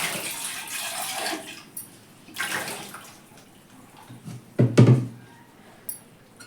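Lentils for bele sambar are swished and rinsed in water in a kitchen vessel, with soft sloshing and splashing that builds to a couple of louder splashes near the end, close by and without talk.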